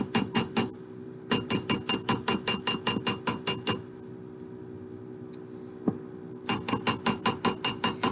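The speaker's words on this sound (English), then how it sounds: "I've got it on my ring mandrel. I've got a chasing hammer, and I'm just going to hammer" A steel chasing hammer strikes a metal ring band on a ring mandrel in quick, even runs of bright ringing taps, with a long pause midway broken by a single louder clink before the rapid hammering resumes.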